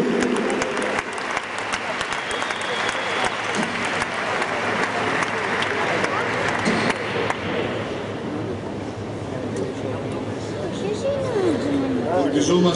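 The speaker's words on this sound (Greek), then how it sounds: "Με ένα δυνατό χειροκρότημα λοιπόν, να υποδεχτούμε τον 3ο παγκόσμιο πρωταθλητή, τον Γιάννη Αντζουμανίδη" Loud, sustained applause welcomes a world champion at an athletics opening ceremony, a broad crowd clapping with background chatter and announcer voices mixed in.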